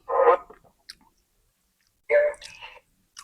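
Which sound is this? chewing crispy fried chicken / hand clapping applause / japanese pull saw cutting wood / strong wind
chewing crispy fried chicken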